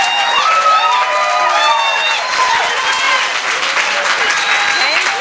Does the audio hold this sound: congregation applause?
yes